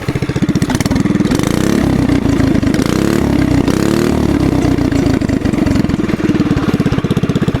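A TrailMaster MB200 mini bike engine fitted with a custom exhaust pipe and still governed, idling loud and close with a steady, choppy single-cylinder putter throughout, no voices.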